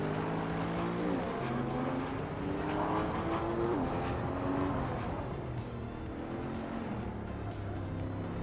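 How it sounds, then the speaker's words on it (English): A 2015 Koenigsegg Agera RS races in a video game, its engine droning loud and steady with rising and falling gear pitch, and faint tire noise under it. "Amy is driving a 2015 Koenigsegg Agera RS, known for its incredible speed and sleek design"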